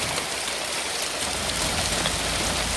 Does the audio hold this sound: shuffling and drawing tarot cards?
no